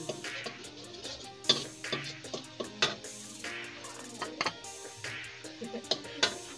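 Spices sautéed in oil in a pan for chicken curry, stirred with a utensil: repeated clicking, scraping taps against the pan in an irregular rhythm, close and moderate in loudness, with soft frying underneath.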